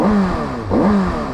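A 2022 Kawasaki ZX6R 600 supersport with its stock muffler revs close by, two quick throttle blips with rising and falling engine pitch that settle back toward idle, loud and alone.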